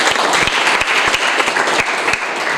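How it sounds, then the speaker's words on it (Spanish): A church congregation breaks into loud, dense applause, a continuous roar of clapping with a few sharper claps punching through, sustained the whole time. "denle un fuerte aplauso al Señor porque Él se lo merece"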